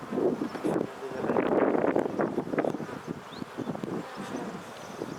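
Honey bees hum at a hive, a dense continuous buzz close by with wind noise across the microphone, while people talk over it.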